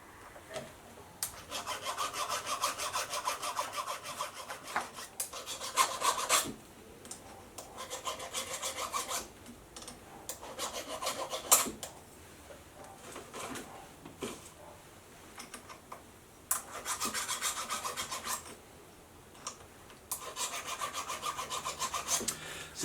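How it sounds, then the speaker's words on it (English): A chainsaw chain's rakers being filed down by hand, giving repeated bursts of close, loud metallic rasping strokes separated by short pauses. "It's just a matter of going to each one and making sure that that raker is filed down."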